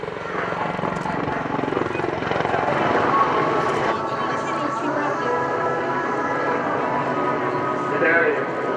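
Apache helicopter rolling at the RIAT 2016 airshow at Fairford, a steady loud rotor and engine roar with crowd chatter and talking over it.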